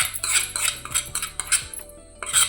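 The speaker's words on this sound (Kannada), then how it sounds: "ಒಗ್ಗರಣೆಯಲ್ಲಿ ಮಸಾಲೆ ಚೆನ್ನಾಗಿ ಮಿಕ್ಸ್ ಆಗಬೇಕು ನೋಡಿ" A spoon scraping and clinking against a metal vessel while masala is mixed into tempering, irregular close clatters and taps with brief pauses, no voices.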